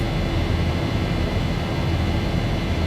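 Boeing 737-800 jet engines in X-Plane 11, a steady broad roar heard from inside the aircraft without clear change, no voices present.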